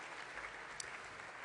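A conference hall audience at an interfaith dialogue gathering claps together in a dense, steady wash of applause, moderately distant and unbroken.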